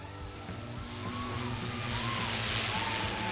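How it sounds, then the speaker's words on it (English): Cars drive by steadily on a nearby road, with engine drone and tire noise swelling louder partway through and faint whining pitch sweeps. No one speaks. "There's so many cars that just keep going by there."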